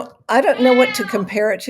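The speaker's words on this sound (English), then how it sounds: "That's my cat." A pet cat meows loudly and close during a Zoom video call, a drawn-out wavering cry with a couple of shorter follow-up mews, while someone talks over it.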